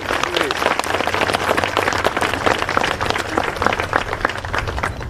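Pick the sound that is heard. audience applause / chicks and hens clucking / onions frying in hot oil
audience applause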